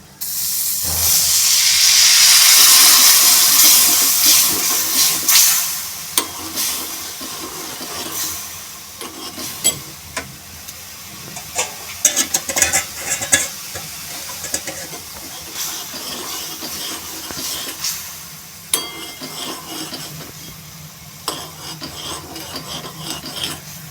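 Water poured into a hot pan of sev usal masala with coriander-cumin powder and Kashmiri red chilli hits with a loud rushing hiss that gradually settles into quieter bubbling and scraping crackles.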